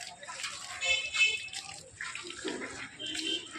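Water runs and splashes quietly during washing, a soft irregular trickle with intermittent splashes, while people talk faintly nearby.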